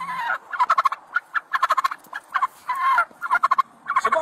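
Turkeys gobble in repeated rapid bursts during a Florida traffic stop, the loud nearby calls coming in several clusters with brief gaps and no talking.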